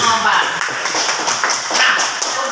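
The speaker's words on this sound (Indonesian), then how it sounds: "Tepuk tangan dulu untuk mengompar." A class of students claps together in a classroom, a dense, steady patter of many hands lasting the whole stretch, fairly loud and close, with some voices mixed in underneath.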